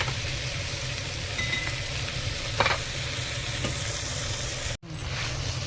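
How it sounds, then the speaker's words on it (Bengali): Vegetables sizzle in a well-seasoned iron pan, with a close, steady crackle of frying, a few brief stirring scrapes, and a sharp clatter just before the end. "এই সবজিটা একটু ভাজা ভাজা হয়ে সিদ্ধ হয়ে গেছে"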